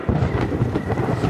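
Thunder rumbles through a stormy night in the Roblox horror game Alas Roban, a steady low broadband roar with rain-like texture sustained across the whole short moment, no voices over it.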